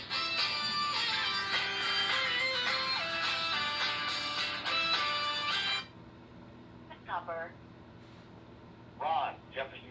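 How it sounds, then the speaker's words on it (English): An office telephone rings with a dense electronic ringtone for about six seconds, then stops, leaving a low room hum with brief voices afterward. "the phone just keeps ringing."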